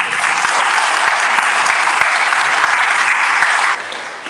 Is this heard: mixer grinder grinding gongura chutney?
no